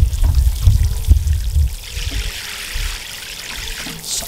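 Water pours from a can onto garden plants: a close, gurgling splash for the first couple of seconds that then thins to a faint trickle and quiet.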